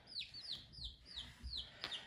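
Newly hatched chicks, a blue laced red Wyandotte among dominant black copper Marans-type chicks, give a run of high, quick down-sweeping peeps, several chirps close together, faint and near with no talk.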